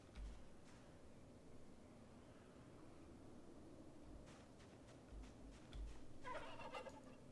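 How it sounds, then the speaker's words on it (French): A turkey gobbles in the video game Project Zomboid, a faint distant burst of gobbling calls near the end over quiet rustling background noise. "il y a une dinde quelque part."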